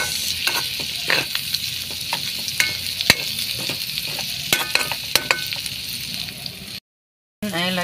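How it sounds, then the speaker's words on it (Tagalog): Lechon pieces being mixed with cabbage in a hot pan: a steady sizzle of frying runs throughout, broken by repeated scraping and clacking of a spoon or spatula against the pan, then a brief gap of silence before the sizzle resumes. "Tapos mix na natin ang kanyang mga laman-laman dito sa lechon"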